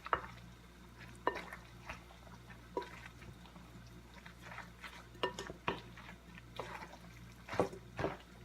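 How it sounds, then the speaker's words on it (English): Asparagus carbonara pasta is plated into a bowl, heard as soft clinks of utensils on dishware and wet scraping of noodles, with a faint hum underneath and no speech. "now I'm just going to plate the pasta, just put it in a bowl"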